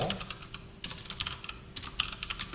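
Rapid, uneven clicking of keys on a computer keyboard as code for a Java text-board login feature is typed, close and steady throughout with no voices.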